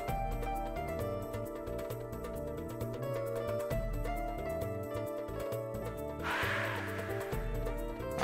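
Crows cawing in the Chrono Cross video game, a burst of harsh calls near the end over a continuous game music soundtrack.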